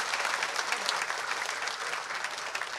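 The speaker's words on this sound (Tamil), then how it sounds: "நல்லா கைத்தட்டு கொடுங்க அவருக்கு." A crowd at a Tamil movie audio launch event applauds steadily, a dense, even wash of many hands clapping throughout the short stretch, fairly loud and without talk.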